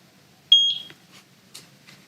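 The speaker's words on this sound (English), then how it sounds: "Press the sync button until you hear the beep" A single short electronic beep sounds once from a Eufy Indoor Cam S350 security camera, followed by faint rustling and clicks in an otherwise quiet room.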